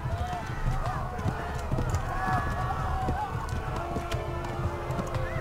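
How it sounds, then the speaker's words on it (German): Rapid, rhythmic hoofbeats of a horse galloping in the medieval video game Kingdom Come: Deliverance, steady and continuous under someone talking over the gameplay. "Und lauf, mein Pferd. Laufe wie der Wind."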